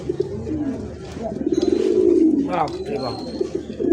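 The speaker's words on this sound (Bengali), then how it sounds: "ওহ সেই সুন্দর ডাক দেখছেন ওরে বাপরে বাপ ডাক কাকে বলে দেখেন" Racer pigeons coo close by in a loud, throaty rolling call that swells in the middle and recurs in pulses, while someone talks excitedly over the birds.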